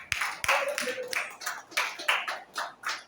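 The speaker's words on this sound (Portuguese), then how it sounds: "uma salva de palmas para o Senhor Jesus" Congregation in a church service clapping in applause for Jesus, a quick scattered burst of hand claps settling into rhythmic clapping, moderately close.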